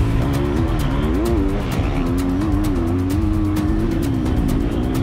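A Triumph 250cc motocross dirt bike runs on a loamy dirt track, its engine a loud, steady buzzing drone with slight rises and dips in pitch, close and alone.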